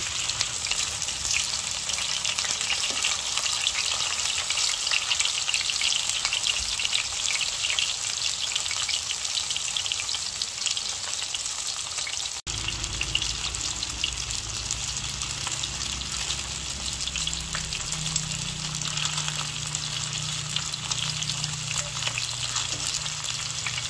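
Siomay frying in oil in a kawali, giving a dense, loud, unbroken sizzle that crackles like rain for the whole stretch, with a slight change in tone halfway through.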